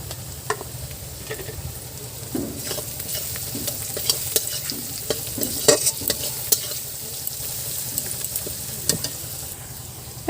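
Ginger paste is stirred into onions frying with salt and turmeric, giving a steady sizzle broken by repeated scraping and clicking strokes of the spatula, close and fairly loud.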